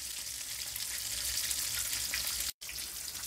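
Spiced besan-coated lemon masala fish frying in oil, a steady close hiss of crackling sizzle throughout, broken by a brief sudden dropout near the end, with no voices.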